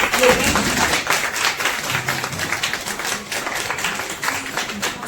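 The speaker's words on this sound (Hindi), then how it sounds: "आज सब लोग की तालियों की गूंज होनी चाहिए।" A crowd claps at a gathering on the eve of Narendra Modi's 75th birthday. The applause is a busy, uneven patter of many hands that rises and dips throughout, with some voices underneath.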